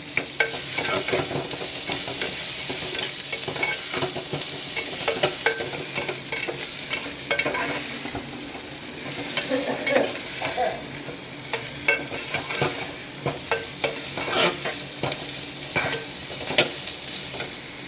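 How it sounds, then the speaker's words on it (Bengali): Crushed garlic frying in a small amount of oil, a continuous close sizzle broken by repeated scraping and clinking strokes of a spoon stirring the pan, with no speech. "রসুনটা ভাজা ভাজা হয়েছে"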